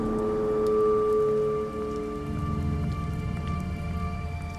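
Rain falls steadily in The Wolf Among Us video game, a soft, even patter heard alone beneath faint sustained musical tones, with no voices.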